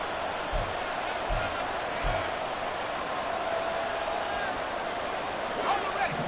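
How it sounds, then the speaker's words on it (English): Steady roar of a home stadium crowd in an American football video game, a broad distant wash of noise with a few low thumps near the start and a commentator talking over it. "The crowd's not doing that O-line any favors."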